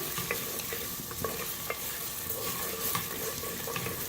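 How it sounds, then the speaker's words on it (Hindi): Onions fry in a pan with a steady, close sizzle, broken by faint scrapes and taps as they are stirred. No one speaks. "पहले प्याज को हम फ्राई करेंगे।"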